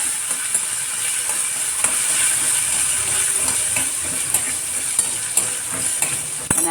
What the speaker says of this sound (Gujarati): આપણે એમાં જ ખોપરાને પણ શેકી લઈશું.